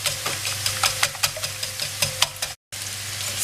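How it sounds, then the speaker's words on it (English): A hand whisk beats eggs with fresh milk in a bowl for a frittata, giving quick, irregular light clinks over a steady low hum, with a brief silent gap near the end. "Then I'm going to go ahead to whisk them with a hand whisker"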